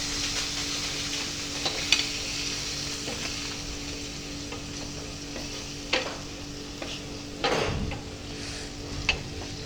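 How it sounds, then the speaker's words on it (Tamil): Chicken coated in masala sautés in a pan with a steady, close sizzle, broken by the occasional clink and scrape of a spoon as it is stirred and pushed around. "இது பாருங்க, இப்படி போட்டுக்கிட்டு நல்லா வதக்கணும்."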